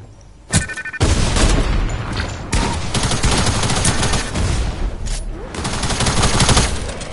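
A pump shotgun blasts inside a video game: a sharp report near the half-second mark, then a dense run of loud, close gunfire and booms that carries on to the end with no talking.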